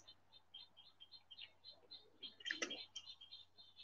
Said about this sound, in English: Listen to those birds, man. It sounds nice.